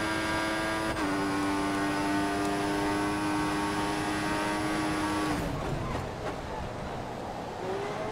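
Formula One race car engine in the F1 2014 video game, qualifying at the Russian Grand Prix in Sochi, a loud steady high-pitched whine with an abrupt gear-shift drop before fading into rougher noise near the end.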